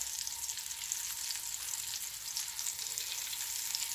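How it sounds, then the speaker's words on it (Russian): Breaded meat cutlets sizzle steadily in a frying pan, a close, continuous crackling hiss of hot fat with no talking. "Шкварчат."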